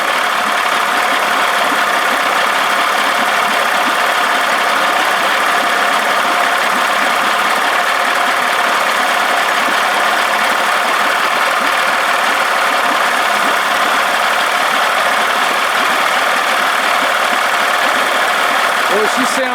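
A 1979 Evinrude 55 hp outboard motor idles with a steady, loud, close mechanical drone and fast rattling chatter, continuous and unchanging throughout.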